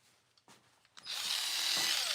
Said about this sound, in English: I got to get this goofy Ryobi tool